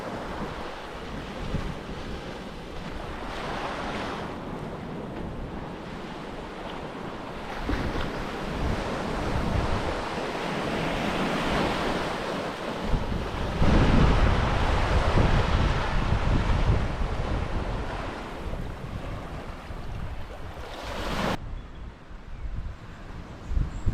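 Surf washes onto a beach at Wilsons Promontory National Park, southern Australia, a continuous roar of breaking waves mixed with gusting wind buffeting the microphone.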